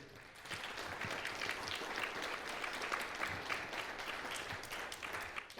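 A town hall meeting audience in the Village of Niles claps together, producing fairly quiet but continuous, even applause with sharp individual claps standing out across its length.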